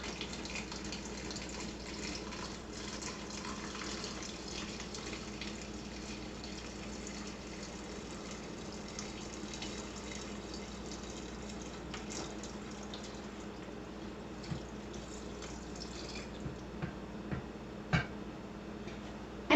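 Eight cups of water poured into a jar of coffee for cold brew give a soft, steady trickle and gurgle for a long stretch, with a few faint clinks near the end.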